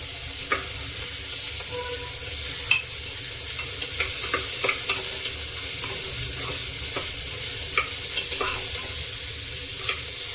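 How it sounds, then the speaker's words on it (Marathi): Onion frying in a small amount of oil in a pan, a steady close sizzle with scattered crackles and pops as it is stirred, no voices. "ह्याच्यामध्ये पहिल्यांदाच कांदा भाजून घ्यायचा आहे"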